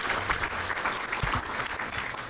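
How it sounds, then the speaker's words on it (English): An audience at a business keynote breaks into steady, dense applause, a continuous wash of many hands clapping close by, with no talking over it. "Big round of applause for Tien."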